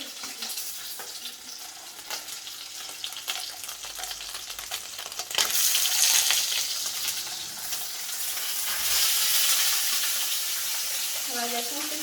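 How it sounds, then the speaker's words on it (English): Sausages fry in a pan with a steady close sizzle, which swells louder partway through as they are stirred and shifted, a continuous crackling hiss throughout. "So we're frying our sausages."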